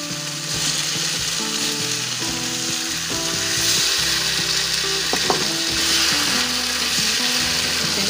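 Basil and thick leek stalks frying with tongkol tuna for rica-rica over a raised flame, a steady close sizzle with metallic stirring clatter and scraping throughout, no voices.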